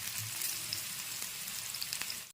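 Green chilies and onions frying in hot oil in a pan, a dense steady hiss and crackle close by with faint utensil ticks, cutting off abruptly at the end.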